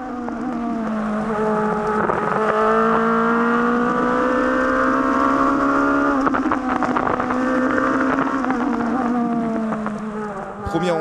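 A rally car at the Saint-Gouëno rally is heard from inside the cockpit, its engine loud and close, revving and shifting through gears at speed, with a person talking over the sound throughout.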